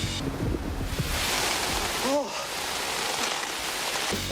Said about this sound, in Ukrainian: Гра виглядає доволі непогано, хоча дощик трохи насторожує.